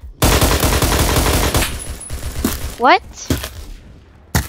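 A loud, dense burst of rapid automatic gunfire in the Phantom Forces shooter game, then scattered single shots and game sound effects, with a voice speaking briefly over them.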